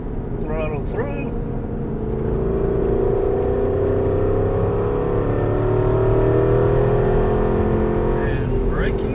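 Aston Martin V8 Vantage engine pulling hard under throttle, a steady rising drone building in pitch and loudness over several seconds, heard from inside the car while someone talks over it.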